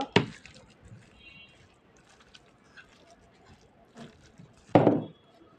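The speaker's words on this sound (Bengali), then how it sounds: "এখন মূলাগুলো মেখে নিব" Grated radish mixed by hand with mustard oil and onion for a mashed radish dish: wet squelching and squishing, with a sharp squish at the start, soft handling noises between, and a louder, thicker squelch near the end.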